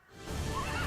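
A horse neighs in a Minecraft animation, a short rising whinny that swells quickly and holds at moderate loudness, alone without talk.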